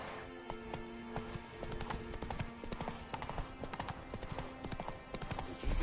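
Roach the horse's hooves clip-clop steadily in The Witcher 3, a close, regular rhythm of hoofbeats over a continuous game ambience, with no talk.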